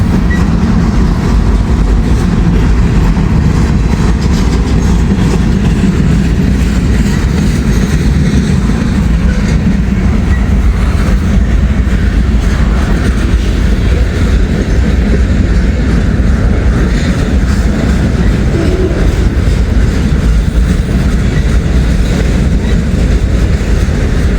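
A freight train of auto rack cars loaded with pickup trucks rolls past close by, a loud, continuous rumble with rhythmic clickety-clack of wheels on rail joints throughout.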